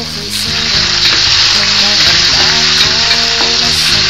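Pork sizzles and crackles loudly in a hot pan, a dense continuous hiss with occasional stirring scrapes and faint background talk.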